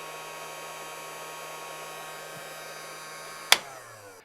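Heat gun running on a low fan setting while shrinking heat shrink tubing onto a fly line: a steady whooshing blower hum with a faint underlying tone, a sharp click near the end, then the airflow winds down.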